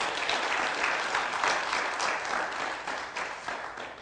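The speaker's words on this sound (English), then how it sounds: "A round of applause for our guests." An audience gives a round of applause for guests on a hygiene talk show, a dense, continuous clapping that stays steady and fills the room before easing slightly toward the end.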